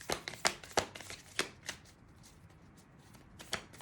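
A tarot card deck is shuffled in a quiet room, with several sharp riffling bursts near the start and one more near the end, broken by a stretch of faint hush.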